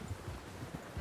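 Horse hooves clip-clop softly at a walking pace in Red Dead Redemption 2, a faint, muffled rhythmic patter of a few steps over a low background rumble.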